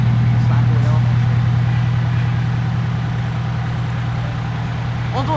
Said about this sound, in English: Multiple fire trucks.